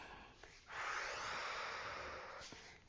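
One slow, breathy inhalation during a parent-child yoga routine, soft and close, swelling steadily for about two seconds with a faint snort-like onset and no talking.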